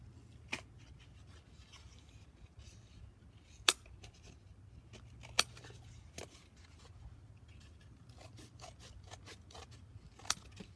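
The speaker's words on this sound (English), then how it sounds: "We are going to cut our egg carton." Scissors snip through a cardboard egg carton, as sharp, isolated cuts spaced irregularly over a quiet, faint background with soft rustling between them.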